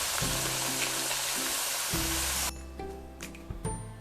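Half-fried potato sticks for French fries get their second frying in hot oil. A loud, bubbling sizzle with a low hum fills the first half, then drops to a quieter crackle with a couple of clatters and no talk.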